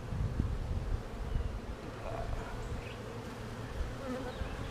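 Honey bees from a defensive hive buzzing close around a beekeeper's head, a steady faint drone with passing whines of individual bees and light wind rustle.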